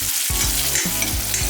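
Green chillies sauté for safarjal pickle in a loud, continuous sizzle with brief stirring scrapes in the pan, close and dense throughout, without any voices.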